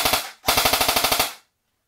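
An Umarex H&K UMP 45 airsoft gun on an 8.4 volt battery fires full-auto in two bursts: a short rattle of about three shots, a tiny gap, then a rapid run of around ten evenly spaced cracks, loud and close.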